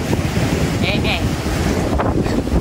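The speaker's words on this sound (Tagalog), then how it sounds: "tumataas na ang tubig at ang lakas ng hangin, sobra" Loud wind buffets the microphone over rushing, surging water on a fishing trip as the tide rises, a constant roar with no clear pauses.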